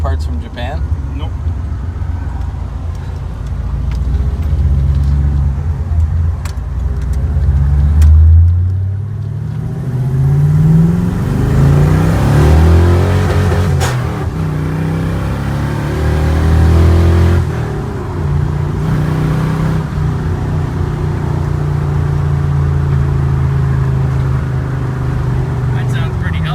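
Car engine with shorty headers feeding a 2.5-inch pipe and Magnaflow muffler, a steady low rumble that swells through a few revs midway and settles back to idle, close up, with people talking over it.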